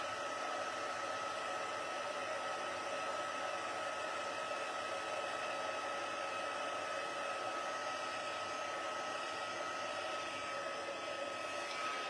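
A heat gun blows a constant, even whoosh of hot air as it melts embossing powder. The sound runs unbroken and fairly soft at close range, with no talking.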